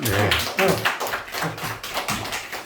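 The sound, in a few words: audience applause at a lecture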